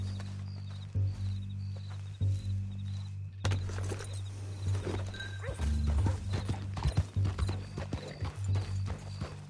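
Horse hooves clip-clop in Red Dead Redemption 2, a steady run of close, distinct hoofbeats over a low droning game soundscape, with a horse's whinny and no talk.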